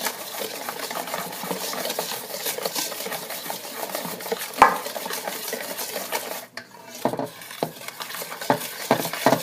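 A whisk stirs a sticky apple flamuse batter in a bowl, giving steady scraping and clinking strokes close by, with a brief pause in the middle before the stirring resumes in short bursts.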